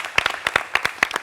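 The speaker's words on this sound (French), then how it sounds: "on va applaudir pour Bissiro." Audience applause in the finale of a reunion show. It is a short, close burst of distinct, rhythmic hand claps, heard alone without speech.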